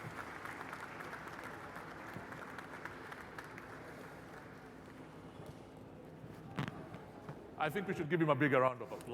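Applause greets a head of state arriving at a business leaders' panel, a long dense wash of clapping from a large audience at moderate distance, followed near the end by someone speaking over it.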